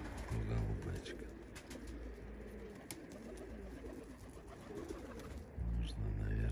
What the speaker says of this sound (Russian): Это голубь, а то голубочка.